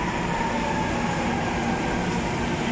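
An MRT train at Kamuning station in Metro Manila rumbles steadily with a constant roar of wheels and carriages, loud and close, with a faint sustained tonal hum.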